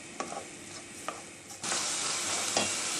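Ground meat fries in oil in a pan with a few scraping stirs, then breaks into a loud, steady sizzle once more oil goes in.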